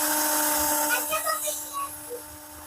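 A modified 12V cordless drill runs at its lowest speed setting, about 320 RPM, giving a steady whining hum with faint fluctuating overtones, close and continuous.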